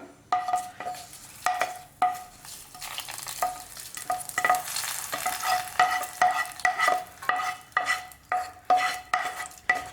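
Hot tempering poured into a raw mango kichadi and stirred: a steady sizzle runs under regular rhythmic spoon strokes scraping and tapping the pot, close and clear, with no talking.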